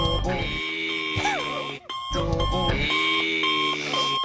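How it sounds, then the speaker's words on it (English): A double-jointed thumb alarm sound effect plays on a sports talk radio show: two loud electronic alarm passages with warbling, sliding beeps and bell-like tones, split by a brief silent gap. "That is the double-jointed thumb alarm."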